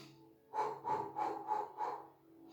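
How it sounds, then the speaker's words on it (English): Five soft, rhythmic pulses of breath push out in quick succession during a Pilates breathing exercise, close and quiet with a faint pause before and after. "So it's like a pulsing breath."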